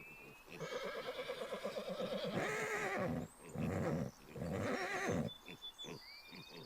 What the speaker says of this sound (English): That horse is over there.